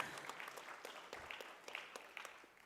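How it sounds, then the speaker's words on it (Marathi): A conference audience claps loudly, many hands in dense, uneven applause that carries on throughout and tapers slightly at the end, heard from within a hall. "एकदा जोरदार टाळ्या सगळ्यांसाठी"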